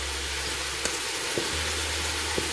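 Marinated goat meat for Caribbean curry goat sizzles steadily in a hot pan, a close, continuous frying hiss with a few faint stirring taps.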